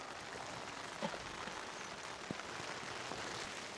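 Heavy rain falls outdoors in Bulgan province, Mongolia, a steady dense hiss of drops with a few sharper taps on a surface, fairly faint overall.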